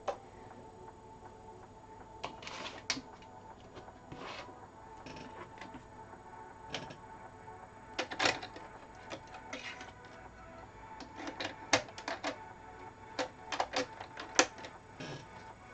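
A sewing machine stitching after a bobbin change, giving bursts of fast mechanical ticking and clicking that start, stop and restart at a moderate level over a quiet room background.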